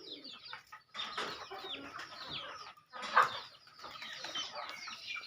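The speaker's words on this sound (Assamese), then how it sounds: "এইবিলাক মুৰ্গী দাউৰি আছে একেবাৰে।" Chickens on a poultry farm cluck and call in bursts, close by and fairly loud, with scratchy movement as the birds run about and no talk.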